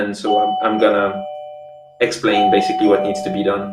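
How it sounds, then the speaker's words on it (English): A doorbell chimes in a home during an online technical workshop, a tonal ding ringing out under ongoing conversation, with people talking before and after a short pause. "that's the doorbell of the dog"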